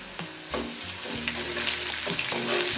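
Ginger garlic paste sizzles and fries among browned onions in a pan for an egg bhurji base, a steady close hiss broken by several scraping stirs of a spoon, with no talk.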